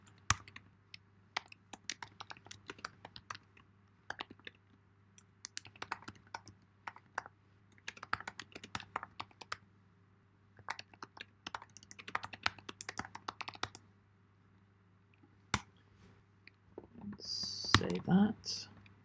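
Rapid clattering keystrokes on a computer keyboard come in irregular bursts separated by short pauses, close and crisp over a low steady hum.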